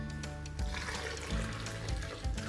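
Water poured into a cooking mixture of seasoned meat marinade with black pepper, a short close gurgling splash that comes in a few pulses over a steady low hum.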